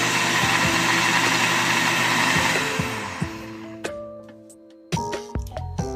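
A Beautiful Power Extract blender on its low setting gives a steady close whir for about three seconds, then spins down to quiet, followed by a few sharp clicks and handling knocks.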